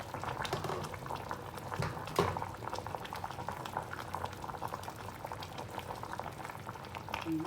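A pot of southern Thai fish sour curry boils, with a steady, dense bubbling that continues throughout, close up and without speech.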